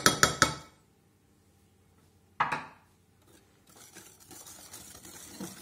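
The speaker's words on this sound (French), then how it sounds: "Et on mélange." Light crème légère is stirred into a rhubarb tart filling: a few quick clinks of a utensil against the bowl, a sharp knock, then a steady soft scraping and mixing, close and moderately quiet.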